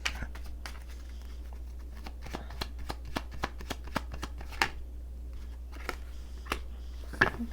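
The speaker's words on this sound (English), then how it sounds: "Let me take the last card first before I even say this." Tarot cards are shuffled and drawn by hand in a quiet room, giving a series of crisp card snaps and flicks at an uneven rhythm over a low steady hum, with no talking.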